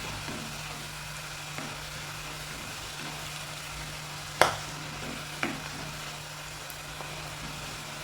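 Masala browning in a pan for a pearl spot fish curry gives off a faint, steady sizzle, broken by a sharp utensil click and a softer tap near the end.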